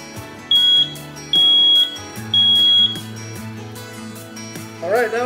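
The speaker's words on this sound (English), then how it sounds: "We are out installing smoke detectors today" A freshly installed smoke detector sounds three loud, piercing beeps in an even rhythm, close by indoors, followed by a brief voice at the end.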